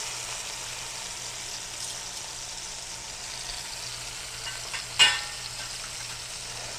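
A pork loin sears in a hot pan after being flipped, giving a steady, soft sizzle with a brief louder pop or clatter near the end and no talk.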